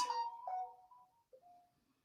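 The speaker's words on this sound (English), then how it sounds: "That's Facebook reminding me. I guess I need to turn my own phone off, huh?" A Facebook notification chime sounds from a phone, a short bright two-part electronic tone followed by a softer, fading second tone, heard alone in a quiet room.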